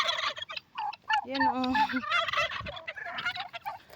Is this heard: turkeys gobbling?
yes